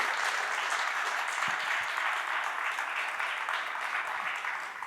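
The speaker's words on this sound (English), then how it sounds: "Let's have a round of applause for Jan." Audience applause closing a talk on horizontally scalable controllers at a tech conference: steady, dense clapping from a seated crowd, sustained and even throughout before tapering slightly at the end.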